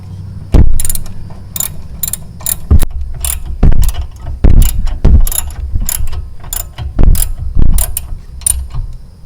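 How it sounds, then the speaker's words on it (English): A hand ratchet tightens a bolt on the front or rear brakes of an Alfa Romeo Giulia during a pad and rotor change. Loud, close bursts of rapid metallic clicking are broken by sharper clanks and short pauses, with no talking. "Now let's get this one tightened down."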